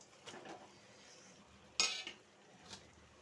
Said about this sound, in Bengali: হালকা হাতে একটু নাড়াচাড়া করে নেব।